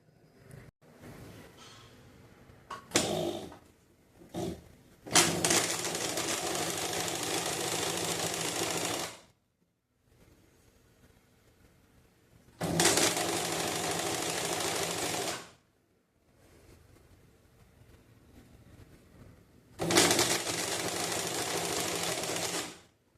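A sewing machine stitches the back panel of a blouse in three loud, steady bursts of whirring, each several seconds long, separated by quiet pauses, with a few short stuttering starts at the beginning.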